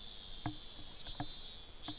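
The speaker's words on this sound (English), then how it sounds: "Casual cicadas." Cicadas in the visual novel If My Heart Had Wings, set in a Japanese town: a steady, shrill, high buzzing drone with a few soft clicks and taps scattered beneath it.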